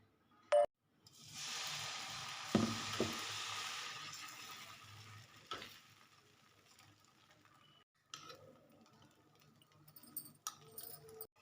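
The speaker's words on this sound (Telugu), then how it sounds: "ఇప్పుడు దోశ పోసి చూపిస్తానండి." Coconut dosa batter hitting a hot pan and sizzling, a soft steady hiss that swells after a brief clink, then fades into quieter scraping and small taps.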